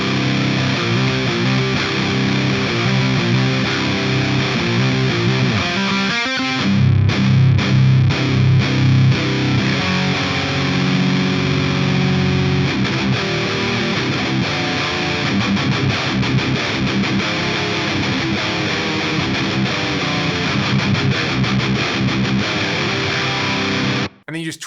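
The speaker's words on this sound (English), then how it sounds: "basically sounds like you've run a fuzz pedal into a high gain amp." A thick, buzzing high-gain electric guitar tone from a Lichtlaerm Audio Prometheus amp, with fuzz-like distortion, plays loud chords and riffs continuously, saturated and heavily compressed.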